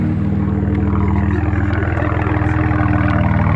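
A BMW 335i fitted with catless downpipes idles close by, a loud, steady, deep exhaust drone with a rapid rumbling pulse that holds level the whole time.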